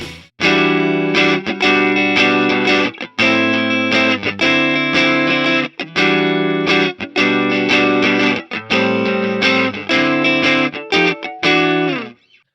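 Electric guitar strums rhythm chords through a low-gain distortion pedal on a budget J-Rock pedalboard, loud and close, in choppy bursts with brief muted gaps between chord stabs, no voices.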